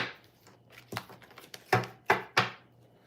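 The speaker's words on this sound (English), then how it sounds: "do a quick shuffle here." Crisp papery riffling and slapping of tarot cards, a few soft flutters then three sharp shuffling bursts, close and fairly quiet.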